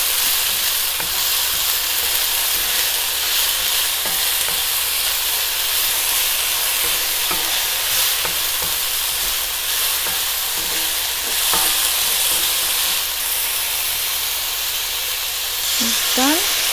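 Bean sprouts and green onions stir-fried over high heat, a loud continuous sizzle and steamy hiss with occasional spatula scrapes against the pan and a brief voice near the end.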